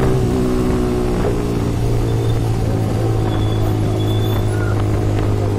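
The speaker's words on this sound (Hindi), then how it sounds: "तो ये आप आवाज़ सुनिए बाइक की।" A motorbike fitted with a loud Austin Racing exhaust rumbles and revs close by, a deep, steady, loud drone with no talking over it.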